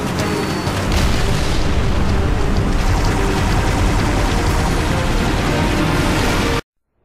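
A loud, sustained rumbling blast from a Halo video game explosion roars for several seconds, then cuts off abruptly to silence.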